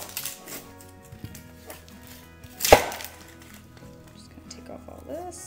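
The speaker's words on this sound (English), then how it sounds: "I'm gonna be slicing this onion into nice even slices" A knife slices through a sweet onion on a cutting board for a mushroom pesto truffle pizza, soft repeated cuts with one sharper knock near the middle, faint background noise between strokes.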